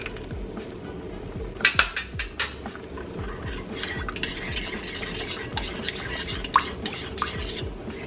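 A utensil stirs an egg and sour cream mixture in a pot with soft repeated scraping and occasional light clinks, under a steady background hiss.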